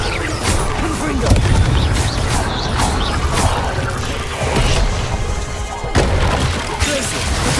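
Repeated Confringo blasts in Hogwarts Legacy on PC, a steady run of booming, crashing bursts mixed with other spell impacts, with a voice calling out spell names throughout.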